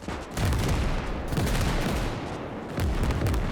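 Rocket artillery barrage in the Winds of Iron 1920+ mod battle, a dense continuous rumble of overlapping blasts and gunfire, loud and sustained with a brief dip before surging again.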